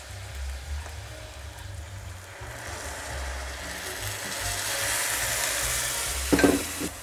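Red wine is poured over browned meat in a hot pan, sending up a broad hiss that swells and keeps sizzling while a spoon stirs and scrapes, with a brief clatter near the end.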